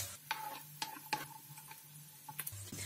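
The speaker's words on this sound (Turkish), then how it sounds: "Bademleri orta kısıkta kavuruyorum." Almonds roasting in a pan over medium-low heat, with a quiet background hiss broken by light, scattered ticks and clicks as the nuts are stirred and shift in the pan.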